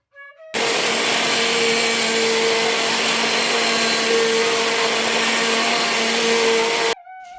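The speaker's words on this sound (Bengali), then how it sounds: "এখন আমি এটাকে ব্লেন্ড করে নিচ্ছি" Kitchen blender whirring steadily through leftover rice with water and salt for chitoi pitha batter, a loud continuous motor drone with a grinding hiss, starting abruptly and cutting off after about six seconds.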